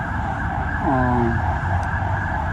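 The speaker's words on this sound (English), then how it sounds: "That's like I guess like a kind of ambulance." An ambulance siren wails on a busy street in Bogota's Zona Rosa, its falling wail rising out of steady traffic noise at moderate distance before fading under the continuous roar of passing vehicles.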